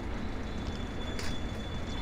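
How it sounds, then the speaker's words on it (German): Railway wagons shunted by a Vossloh G6 diesel locomotive roll into a sawmill station in Train Simulator 2020, a steady loud rumble of wheels on track with a faint squeal partway through. "da kommen die Wagen in den Bahnhof reingerollt"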